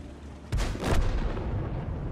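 A tank cannon fires once in a tier 6 online game skirmish, a single heavy boom with a low rumbling tail that fades over a second or two.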